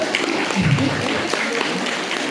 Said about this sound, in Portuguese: uma salva de palmas aí para Isabela